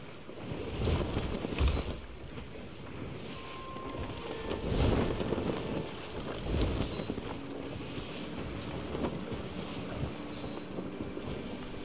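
A sailing ship cuts through the sea in Sea of Thieves, with steady wind and water wash, low rolling swells of wave noise and occasional creaks, continuous and fairly close with no voices.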